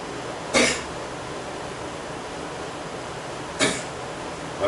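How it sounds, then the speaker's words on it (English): Two sharp, isolated coughs a few seconds apart, close by, standing out against a quiet hissing background with no speech. "How long have you had that cough?"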